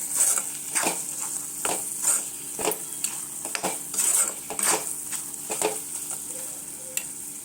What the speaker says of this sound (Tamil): போட்டுட்டு ஒரு கிளறிடுங்க.